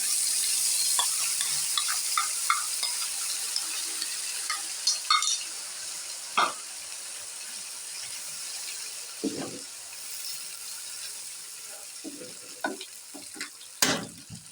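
Ground spices for dum aloo frying and being stirred in a pan, with soft continuous sizzling broken by intermittent scraping stirs and occasional clinks from a utensil, close by and with no talking.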